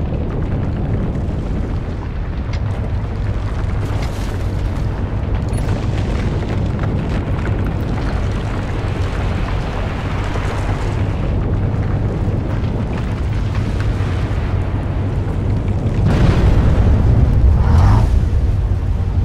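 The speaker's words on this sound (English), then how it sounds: "Everything's gonna explode." In the Volcanoids video game, a sustained roar of eruptions and explosions rumbles continuously at high volume, swelling louder toward the end, with no talk.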